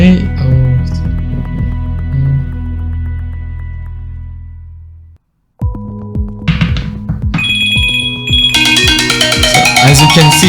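A phone ringtone sounding through Windows Phone Link on a computer, a bright synthetic melodic chime that repeats in layered electronic tones after a brief gap, loud and close.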